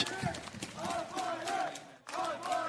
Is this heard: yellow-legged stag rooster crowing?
no